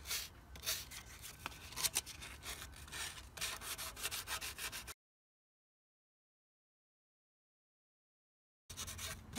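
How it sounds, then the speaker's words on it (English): Close, scratchy rubbing of light emery paper or sandpaper smoothing filler on a frame, quick back-and-forth strokes for several seconds, then silence and a short resumption. "So all we're going to do is sand down the filler that we put in. So just a real light emery or sandpaper, and just get those lumps off"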